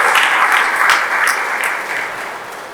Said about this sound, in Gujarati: આ પાંચેય ભાગીદારોને જોરદાર તાળીથી વધાવો